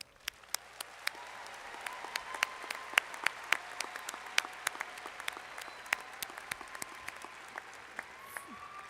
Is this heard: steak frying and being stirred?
no